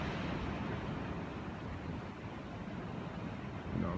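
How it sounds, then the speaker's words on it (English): Ocean waves at Ocean Beach, San Diego wash in a continuous broadband roar, steady and fairly close, with wind noise mixed in and no talking. "See the waves, they don't stop."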